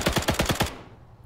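Rapid machine gun fire in a war video game: a burst of about six evenly spaced shots in quick succession, loud and close, followed by a fading echo.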